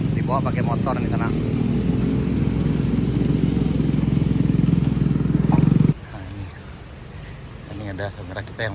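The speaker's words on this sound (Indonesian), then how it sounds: "bantuan ke Ngalau Gadang, dibawa pakai motor di sana." A motorcycle hauling aid supplies along a damaged rural road after a disaster, its engine droning loud and close for several seconds before cutting off abruptly, with people talking over it and afterward.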